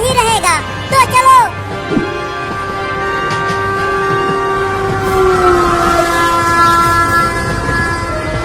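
A cartoon train running with its horn sounding: a long, loud, steady horn blast over a continuous rumble of the moving train, after a few brief, louder sounds at the start.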